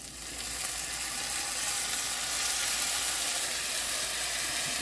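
Washed rice hits hot sesame oil and sizzles. The hiss swells in the first moment, then holds loud and steady without pause.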